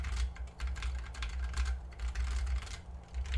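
Steady typing on a Preonic mechanical keyboard, close and fairly loud, with a fast irregular patter of clacky keystrokes running continuously over a low background hum.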